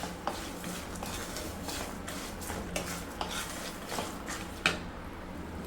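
A spoon scrapes and stirs salt through rice in a pan with soft, steady movement and a few light clinks against the metal, quiet and close, and nobody speaks.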